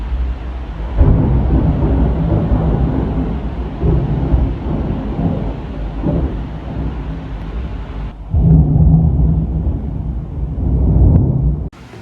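Thunder from a storm in Skopje rolls in long, heavy low rumbles with surges and brief lulls, mixed with steady rain-like hiss and some wind noise.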